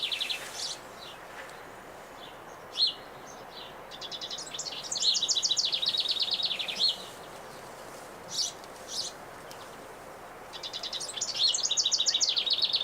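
Birds chirp and tweet around a small honeyberry patch outdoors, with scattered short calls and a few longer bursts of repeated chirping, moderately close over a quiet background.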